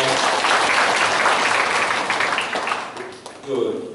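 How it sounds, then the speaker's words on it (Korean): An audience at a regional jobs forum in the Gumi Chamber of Commerce applauds a professor, a dense, close burst of clapping that thins and fades after a few seconds as a voice starts up. "큰 박수 다시 한번 부탁드립니다."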